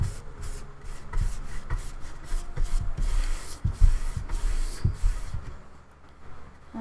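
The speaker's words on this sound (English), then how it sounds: "we're going to take and rub this in real good" Hand rubbing medium into a photo collage on a wooden board, a series of irregular scrubbing and brushing strokes at close range, uneven in loudness, fading quieter toward the end.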